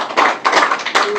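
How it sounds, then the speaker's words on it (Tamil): Congregation clapping hands during a Tamil church service, several rhythmic bursts of close, loud applause one after another. "கரங்களை மறுபடியும் தட்டுங்க"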